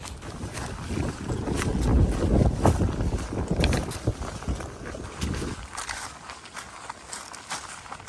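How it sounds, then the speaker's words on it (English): Strong wind roars and buffets the microphone at a mountain spot on the Appalachian Trail, gusting loud at first and then easing to a rushing hiss. "Windy"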